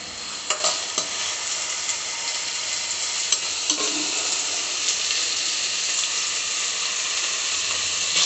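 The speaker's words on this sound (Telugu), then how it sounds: "ఆనియన్స్ కొంచెం దూరగా వేగేంత వరకు స్టవ్ సిమ్లో ఉంది" Onions for a pani puri filling fry on a stovetop over a low flame, giving a steady, close sizzle with occasional spatula clicks and scrapes throughout.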